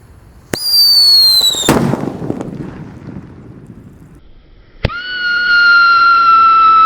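A Pearl Thunder paper firecracker goes off outdoors with a loud whistling shriek that cuts into a sharp bang, followed by crackling and wind noise, then another piercing whistle rises and holds.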